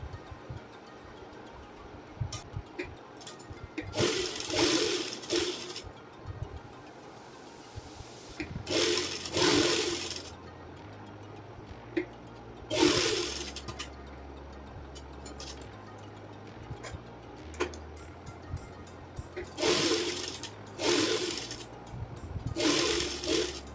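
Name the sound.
sewing machine stitching Angrakha top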